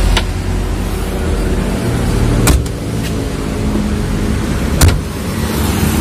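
1995 Toyota Starlet engine running steadily at close range, a constant low rumble with a few sharp clicks or knocks and no talk over it.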